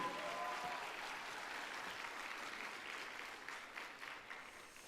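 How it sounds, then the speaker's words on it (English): Attendees at the opening ceremony of a Model United Nations conference at the American University of Sharjah give a warm round of applause, a soft, distant wash of clapping that slowly fades. "please give yourselves a warm round of applause for choosing to participate"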